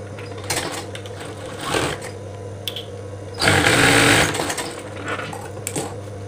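Two pieces of fabric for a mukena prayer garment are stitched together on a sewing machine. It gives a steady mechanical hum with brief clacks and one louder, faster burst midway.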